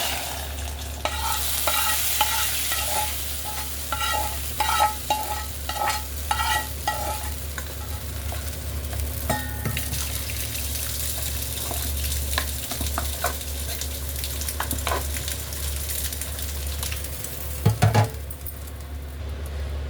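Tempering for fried dal sizzles steadily in a hot pan while it is stirred, with repeated scraping strokes and crackles over a constant frying hiss. No one speaks.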